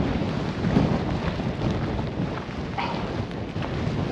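Wind drives rain or hail against a runner out on a fell trail, a dense roaring rush buffeting the microphone, loud and continuous with gusty swells.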